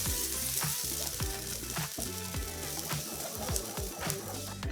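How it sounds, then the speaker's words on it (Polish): Meat broth is poured into sauce ingredients in a hot pan, giving a dense, rushing sizzle with bubbling and splashing that stays loud and steady throughout, with no voices. "W związku z czym dolewam tutaj mięsnego bulionu."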